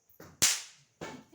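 A firecracker bursts during Diwali celebrations, one sharp loud crack that decays quickly, framed by brief quieter rustling noises before and after.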